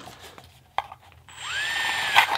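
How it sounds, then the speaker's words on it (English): A power drill bores through a double-lined paper McDonald's cup: a few light clicks and one sharp tap, then the motor whines up to a steady high pitch as the bit cuts through, close by. "You drill through the cup, having your drill bit come out the end"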